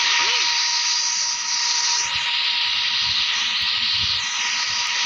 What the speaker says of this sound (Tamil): இந்த ஜெட் பேக் எடுத்துக்கிறேன்.